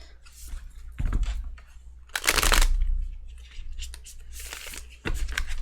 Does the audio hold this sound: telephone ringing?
no